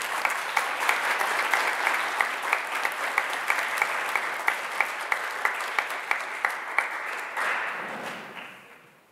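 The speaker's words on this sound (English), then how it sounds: "Could we please give all these students a round of applause?" An audience at a 2020 high school presentation day applauds award-winning students with dense, steady clapping, some sharper claps standing out, before it tapers off and fades away at the end.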